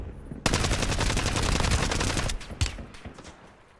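Rapid gunfire from the video game Warzone in a solo-versus-squad battle royale match, a loud sustained burst of automatic shots lasting about two seconds, followed by a few trailing single shots that fade out.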